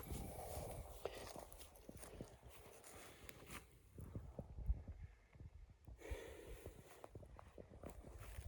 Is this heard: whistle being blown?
no